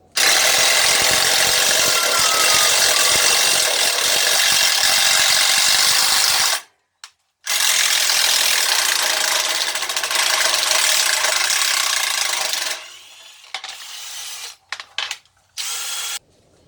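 A Ryobi cordless impact driver hammers loudly and continuously at close range during a tool comparison test, stopping briefly midway before resuming, then trailing off in short bursts.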